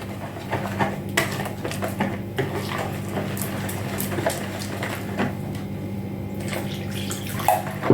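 A litre of water is poured into a bowl to make a dough starter for fried cabbage pies, a steady splashing, trickling stream that runs continuously at close range.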